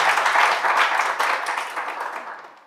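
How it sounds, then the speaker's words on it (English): A crowd at an awards ceremony claps in a dense burst of applause that holds briefly, then fades out toward the end. "Yes, we can applaud them."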